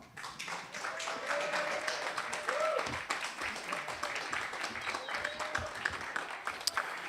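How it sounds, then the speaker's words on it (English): A live audience at The Bedford claps and cheers to welcome Tony Moore onstage, with dense, steady applause that holds for several seconds and a few sharper individual claps standing out near the end. "maybe you put a little extra love and energy into your applause and welcome to the stage our friend, the great Mr. Tony Moore"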